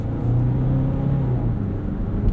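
Steady low road rumble and tyre noise inside a 2023 Kia Sportage X-Pro Prestige cabin while driving over rough pavement, with a continuous drone and faint thumps from the suspension, no talking.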